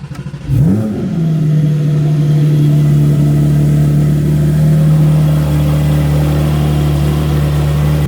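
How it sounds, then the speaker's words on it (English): Porsche GT4 sports car cold start: the starter cranks briefly, the engine catches with a sharp rev flare, then settles into a loud, steady, close high idle. "enjoy a little cold start"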